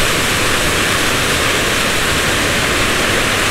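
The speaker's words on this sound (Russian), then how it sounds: "Грозно очень он ревет. Как будто самолет летит." A waterfall roars in a loud, unbroken rush of white noise that stays constant throughout, with nothing else audible.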